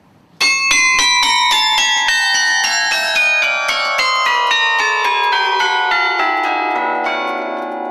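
Carillon bells of Thoin ring out in a dense, loud run of struck notes, many bells sounding in quick succession and overlapping into a sustained shimmering wash that slowly decays.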